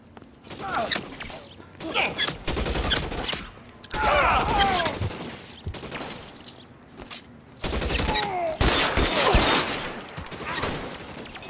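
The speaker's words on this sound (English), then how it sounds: "There's gunfire." Bursts of rapid gunfire and scattered shots crackle through a busy scene in the video game L.A. Noire, with clanking and shouted voices mixed in.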